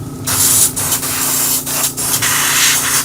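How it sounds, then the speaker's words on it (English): An airbrush sprays in loud, close bursts of hissing air, with short gaps where it is pushed to clear it out during painting of a 3D-printed alligator snapping turtle model. "That was my airbrush. I was pushing on it to clear it out so I get a better spray."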